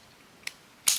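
Scissors snip through a piece of paper for a junk journal page: two short, crisp cuts, a lighter one followed a moment later by a louder, fuller snip, with quiet room tone between.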